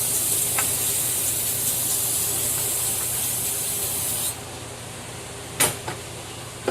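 A can of pond cleaner sprays into the engine bay of a cheap yard-sale Sea-Doo GS jet ski during an engine teardown. It gives a loud, steady hiss for about four seconds, then cuts off, followed by a couple of light knocks.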